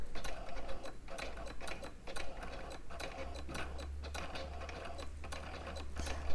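A Cricut Explore Air cutting machine draws with its pen attachment, giving a steady mechanical whir with rapid ticking carriage movements and short stops, close and continuous with no talk.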